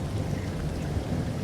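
In an audio story, steady rain patters without a break under a low, dull rumble of thunder, soft and even all the way through, with no voices.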